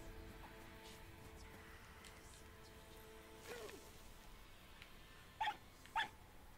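A dog in the video game Rime gives two short, sharp barks near the end, standing out from quiet ambient background and soft game tones.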